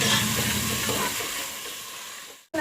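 Chopped tomatoes sautéing in a hot pan for nonbu kanji, a close, continuous sizzle with faint stirring that gradually softens before cutting off abruptly.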